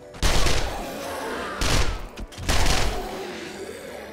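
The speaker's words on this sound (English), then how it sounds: "That's why we have machine guns." Machine gun fire in the video game 7 Days to Die comes in three loud, rapid bursts, the last trailing off into quiet.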